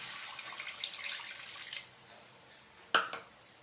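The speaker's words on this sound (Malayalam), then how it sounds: "ഞാൻ ഒരു കപ്പ് വെള്ളം ഒഴിച്ചു കൊടുക്കുകയാണ് ആദ്യം" One cup of water is poured into a pot while making carrot rava kesari, a soft close trickle for under two seconds, followed by a brief clunk.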